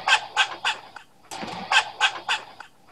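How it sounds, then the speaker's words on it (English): A grey squirrel gives its alarm call: raspy, chattering barks in two quick runs, about four and then five sharp calls, close and fairly loud. "It's our gray squirrel."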